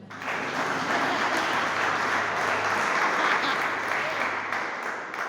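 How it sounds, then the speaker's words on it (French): A church congregation at a French-language sermon bursts into loud, sustained applause, a dense wash of clapping that swells quickly and holds steady for several seconds before easing slightly. "Est-ce qu'on peut acclamer pour elle?"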